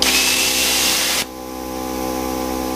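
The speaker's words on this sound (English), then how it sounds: "I'm going to briefly ignite this plasma so you can see what it looks like." A plasma cutter ignites its compressed-air plasma for about a second, a loud, close, harsh hissing roar that cuts off abruptly, leaving a quieter steady mechanical hum.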